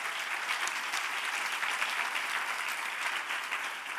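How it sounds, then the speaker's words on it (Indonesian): Congregation clapping during a church worship service, a dense, steady wash of applause that holds evenly for the whole stretch with no voices over it. "berikan tepuk tangan bagi Tuhan kita"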